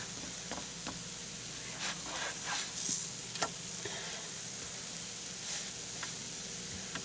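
Pancakes fry on a brand-new griddle during a Mother's Day brunch cook. A steady, moderate sizzle runs the whole time, broken by a few soft clicks and scrapes, and no one speaks.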